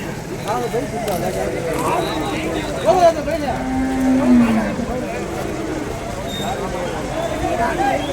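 Native cattle low at a busy cattle market in Vaniyambadi, with one long, drawn-out moo rising above a steady murmur of voices and crowd noise.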